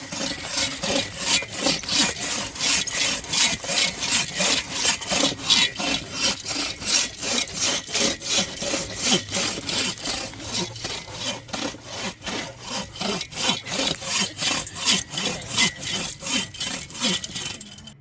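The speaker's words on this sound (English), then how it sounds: "Sawing by lamplight." Steady back-and-forth rasping of a hand saw cutting through wood, rhythmic strokes repeating continuously and close by, with no talking, sawing a tree into pieces outdoors in winter.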